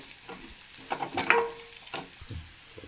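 About a spoon and a half of crushed chillies frying in hot oil, with a soft steady sizzle broken by a few close spoon stirs and scrapes against the pan.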